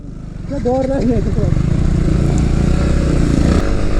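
A motorcycle engine roars steadily at close range throughout while riding at high speed, with a brief voice-like tone rising over it near the start.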